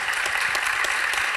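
A conference audience at a national event on digital transition claps together in full, even applause, a continuous crowd clatter without pause.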